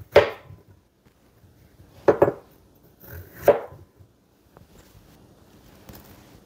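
A knife cutting a peeled cucumber in half on a board, with a few separate close chopping thuds spaced apart and quiet pauses between them.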